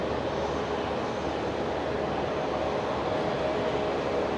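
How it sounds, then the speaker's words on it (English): A Rex Saab propeller aircraft arrives at Brisbane Airport at night, its steady broad engine roar droning continuously at a distance with no break. "I can hear a prop of some sort."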